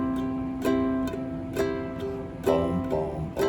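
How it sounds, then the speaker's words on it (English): A ukulele is strummed with all downstrokes on a chord, evenly spaced strums with a sharper accent on the backbeat, close and clear with no talking. "So it sounds something like this with all downstrokes."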